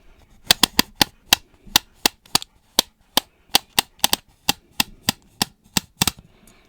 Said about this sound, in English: It's a ratchet tape measure.